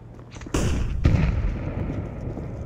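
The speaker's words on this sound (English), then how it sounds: "Flashbang." A flashbang grenade goes off in Counter-Strike 2 with a sharp, loud bang, and a second burst follows about half a second later. A long noisy rumble trails off behind both.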